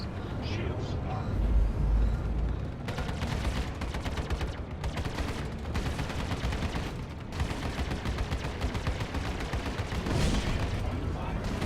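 Rapid bursts of ship weapons fire and impacts in the space game Star Citizen, loud and near, crackling in dense volleys with brief gaps over about twelve seconds, with some speech among the fire.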